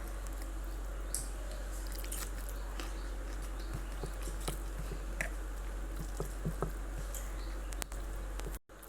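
Close, wet chewing of rice mixed with curries and green chilli, soft irregular mouth sounds and small bites over a steady low background hum, with no talking.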